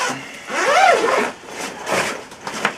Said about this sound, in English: It comes with this TFX travel system, and what this is, let me just unzip it.